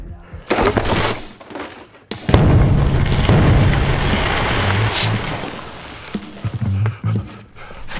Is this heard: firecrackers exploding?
yes